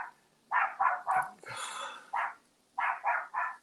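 Several pet dogs bark in quick bursts of three, then a longer rough bark and single woofs, close and loud, with a brief growly note between volleys.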